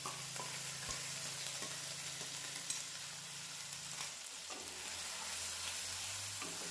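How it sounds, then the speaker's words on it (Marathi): An onion, tomato and cashew puree goes into hot oil for dhaba-style methi matar malai and sizzles with a steady, close frying hiss, while a utensil clinks and stirs now and then. "ही सगळी प्युरी आपण तेलामध्ये घालून घेणार आहोत."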